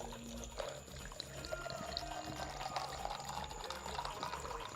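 Ice water poured into a glass, a faint, steady liquid pour lasting a few seconds in a quiet indoor room with low background hum.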